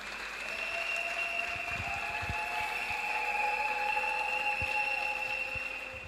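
A congregation at a pastor couple's wedding celebration applauds in a sustained, even wash of clapping lasting about six seconds, moderately distant, with a few steady sustained tones sounding over the applause.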